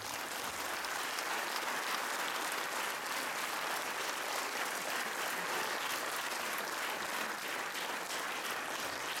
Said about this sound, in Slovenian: Pa dajmo še en aplavz za organizatorja